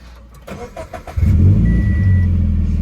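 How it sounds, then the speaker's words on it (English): A Subaru BRZ engine cranks with a few quick starter clicks, then catches and settles into a loud, steady idling rumble close by. "So we're gonna go ahead and turn on the car."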